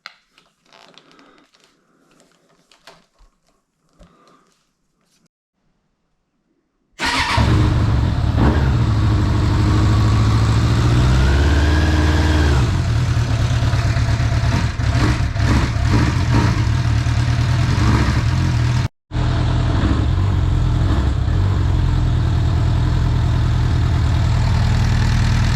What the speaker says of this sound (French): Et là, je vais vous faire démarrer la moto.